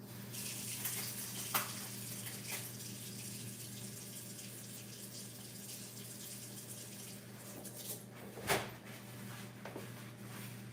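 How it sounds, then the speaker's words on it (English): Blueberries rinsed under a running kitchen tap, a steady faint splashing stream with a few louder clatters and knocks at the sink. "Let me rinse these off again."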